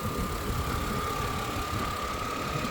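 A 2003 Mercedes-Benz SLK 320 engine idles with the hood open, a steady close mechanical hum with a faint whine that holds even and unbroken throughout.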